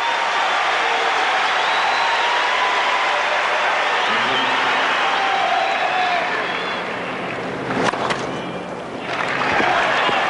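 A tennis crowd at the 2000 US Open, during the Safin versus Sampras match, cheers and applauds in a dense, steady roar that dips briefly near the end before swelling again.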